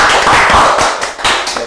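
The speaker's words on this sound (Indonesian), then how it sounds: "Luar biasa, tepuk tangan dong." Short burst of hand clapping at an interview event, a few people clapping close and loud for under two seconds, no talk.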